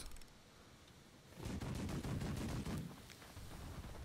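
Cannons firing aboard a burning ship in the naval video game The Last Leviathan, a dense, loud burst of rapid overlapping booms and crackles lasting about a second and a half, then trailing off into rumbling noise.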